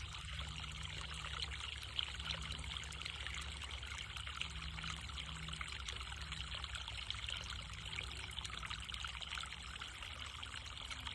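Water spilling over the rim of a wildlife water tank, a faint continuous trickle and dribble running steadily throughout, distant and soft with no voices.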